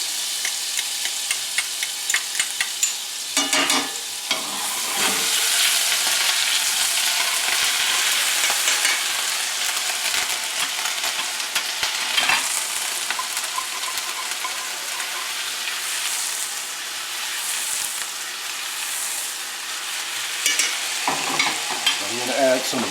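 Garlic and grated ginger fry in a hot pan with a loud, continuous sizzle and crackle, broken by periodic stirring and scraping sounds, with no talking.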